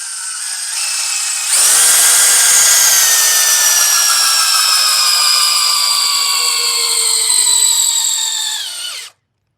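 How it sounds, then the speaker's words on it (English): A DeWalt DCD1007 cordless drill in speed 1, drill mode, runs continuously under heavy load for several seconds, its whine straining and slowing slightly as it drives a 5/8 by 10-inch lag screw fully down, then cuts off abruptly. "That actually drove the 5/8 by 10-inch lag all the way down."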